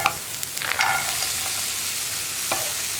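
Jackfruit seeds being stirred and fried in a pan for a Kerala-style stir-fry, a steady close sizzle with a few scraping stir strokes across it and no voices.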